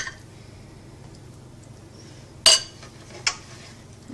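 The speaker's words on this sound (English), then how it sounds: "just scoop up a couple of good spoonfuls of the filling" A spoon scoops ham, broccoli and cheese filling in a quiet kitchen, giving two brief metallic clinks against the dish, a moment apart, over faint background hush.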